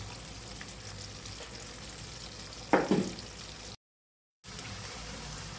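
Spice paste with garam masala powder and ground peanut paste being stirred in a hot pan for a chicken bhuna, a steady close sizzle with one brief louder scraping burst midway and a short silent gap.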